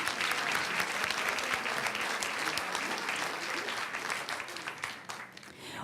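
An audience at a school board meeting gives a student a sustained round of applause, thick and close clapping that holds for several seconds before thinning slightly at the end.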